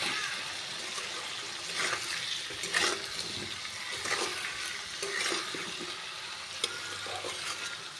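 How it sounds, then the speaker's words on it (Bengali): Potatoes being stirred with salt in a frying pan, spatula scraping in irregular strokes over a steady low sizzle, close and moderately loud with no talking. "লবণ দিয়েও আমি নেড়ে চেড়ে আলুর সঙ্গে ভালোভাবে মিশিয়ে নেব"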